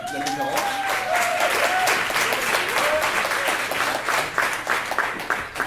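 Conference audience applauding the event's organiser, a thick wash of hand claps that holds loud and steady for several seconds before thinning at the end, with a thin whistle-like tone and murmuring voices underneath.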